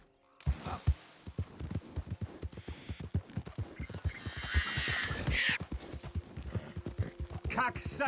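Horses in the video game Red Dead Redemption 2 Online, with steady hoof clip-clops throughout and a brief whinny partway through, heard close under someone talking.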